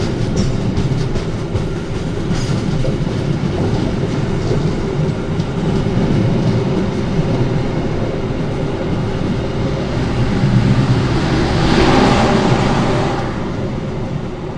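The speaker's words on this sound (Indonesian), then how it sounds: "ada rangkaian Argo Bromo Anggrek yang baru tiba dari Surabaya Pasar Turi dan akan menuju ke Jakarta Kota" Argo Bromo Anggrek train arriving at Gambir station, Jakarta, a steady close rumble of rolling rail cars with faint clickety-clack, holding level for the whole stretch with no talk.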